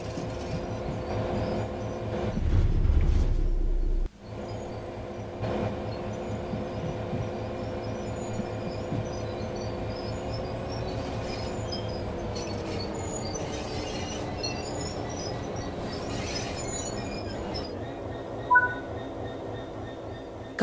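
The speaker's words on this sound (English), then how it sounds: "Slowly, come to a stop just in front of the wagons" A locomotive in Train Sim World 4 rolls slowly toward waiting wagons, a steady low engine rumble and faint rail noise holding throughout, with a deep thump early on and a brief squeal near the end.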